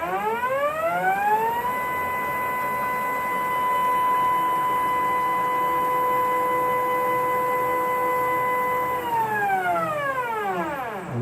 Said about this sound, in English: So that's all axes working, spindle is working, the bed's in now